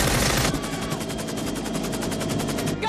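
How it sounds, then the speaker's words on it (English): Rapid bursts of gunfire ring out in an action-drama film scene set outside a records office, a dense, loud, continuous rattle of machine-gun shots filling nearly three seconds. "Gunshots outside the records office."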